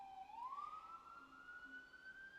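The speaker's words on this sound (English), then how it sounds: "Once this siren passes." A faint emergency vehicle siren wails in the distance, its tone sliding upward and then holding steady as it passes, with no talking.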